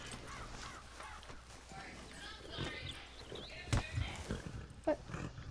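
Horse hooves clip-clop in Red Dead Redemption 2 gameplay, steady, moderately faint and mixed with game ambience, while players talk over them.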